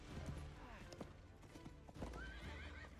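A horse gallops with rapid clip-clop hoofbeats and lets out a neigh in a battle scene from the film Gladiator, loud and close over dense background noise and clashing.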